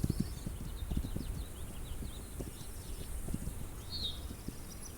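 Horse hooves in a stealth action video game, a steady run of soft thudding footfalls close by over a faint outdoor background, no one talking.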